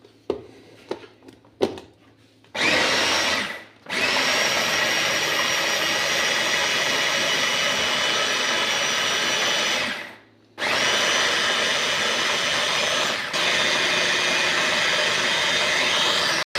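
A kitchen mixer grinder blends coriander and mint chutney in loud, steady whirring bursts, starting after a few clicks, pausing briefly twice and restarting, close and alone.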